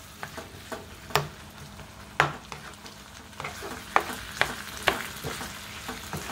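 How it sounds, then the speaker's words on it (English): Taco pie filling bubbling in a pan, a low simmering hiss broken by about ten sharp clinks and scrapes of a utensil against the pan, fairly close, with no talking. "I'm gonna let this simmer"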